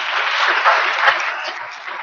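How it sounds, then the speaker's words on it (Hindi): An audience at an IAS academy honor ceremony in India applauds students selected as sub-inspectors, giving a dense, continuous burst of clapping that is loud and sustained throughout. "इन सभी के लिए एक बार जोरदार तालियां।"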